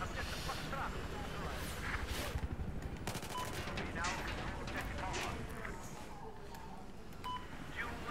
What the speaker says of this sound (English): Shoot them with weapons of death.